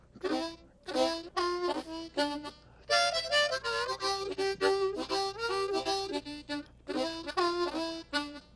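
Up-tempo blues harmonica, bright reedy notes in quick bursts and runs with short breaks between phrases, played close and fairly loud.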